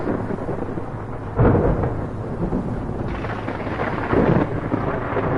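Heavy video game thunderstorm with steady roaring rain, broken by two deep thunder rumbles, one near the start and another toward the end, loud and close with no voices.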